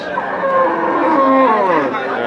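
A Shahiwal bull at a busy cattle market lets out a long, loud moo with a wavering pitch, heard close over faint crowd chatter.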